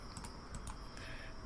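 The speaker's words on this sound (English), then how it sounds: "while you hear me madly clicking away" Rapid clicking and typing on a computer keyboard, steady and close, with keys tapping continuously at a busy pace and no voices over it.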